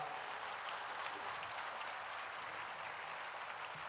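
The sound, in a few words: applause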